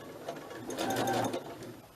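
Sewing machine stitching through a soft spine journal, its needle running in a quick steady mechanical patter that swells in the middle and eases off, close and alone with no talk.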